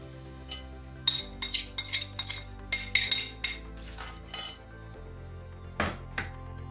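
Grated apples being mixed with dried fruit in a bowl for a fruit and chocolate cake, heard as a run of close clinks and scrapes of a utensil against the bowl, in irregular bursts with short pauses, no voices.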